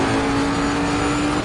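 A race car engine at full throttle in ACC (Assetto Corsa Competizione) career mode at Zolder: a loud, close, sustained engine roar with a steady pitch over a brief stretch, heard alone.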